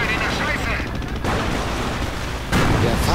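Anti-tank gun fire in a WWII strategy video game, heard as a dense, noisy barrage of blasts and rumbling battle noise, with a sharp new boom near the end, all loud and continuous.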